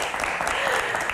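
Dense applause from an audience, steady and fairly loud throughout the brief moment, with a voice faintly underneath.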